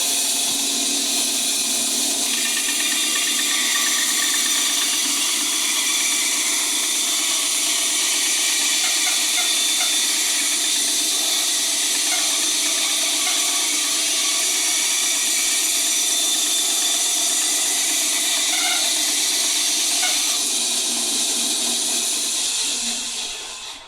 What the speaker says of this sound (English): My cuts are now straight. They're not deflecting at an angle. And that's just a much happier bandsaw.